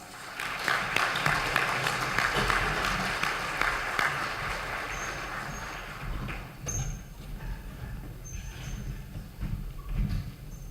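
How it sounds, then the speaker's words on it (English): An audience at a county candidate forum applauds the candidates, a moderately loud wash of clapping that gradually thins out, with scattered thumps afterward. "Please give them a round of applause."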